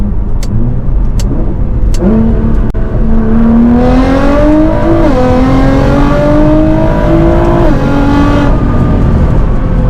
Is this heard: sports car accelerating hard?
yes